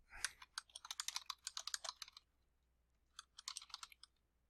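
Quick, light clatter of typing on a computer keyboard, a fast run of keystrokes, a pause, then a shorter burst, close and alone in a quiet room.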